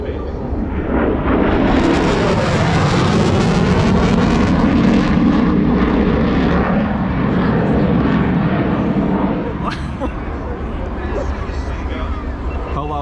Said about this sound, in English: check out this sweet airplane here